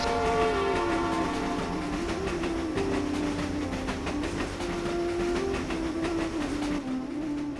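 A train rolls in with a long, sustained horn blast that wavers in pitch, over a continuous rumble and rhythmic clatter of wagons on the rails, loud and steady throughout.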